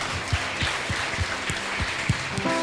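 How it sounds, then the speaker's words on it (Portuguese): Church congregation applauding during an evening service, a steady wash of clapping that runs the whole time, with low rhythmic thumps beating underneath. "Você pode aplaudir aquele que salva?"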